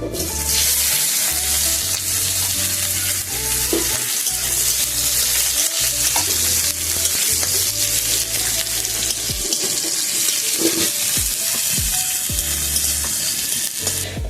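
Chopped onion with panch phoron frying in hot oil for a Bengali vegetarian ghonto, a loud steady sizzle with stirring scrapes and clatters throughout, no talking.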